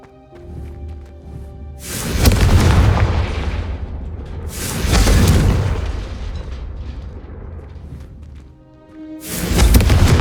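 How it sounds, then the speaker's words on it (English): Confringo fire-blast spells go off one after another in the video game Hogwarts Legacy. There are three loud, booming explosions, and each one rumbles and fades over a couple of seconds. Soft game music plays in the background. "a Confringo cast travels a bit farther than that of a spell like Incendio"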